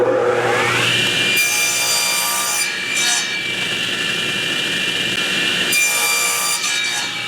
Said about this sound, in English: That's what I'll be cutting out on the bandsaw.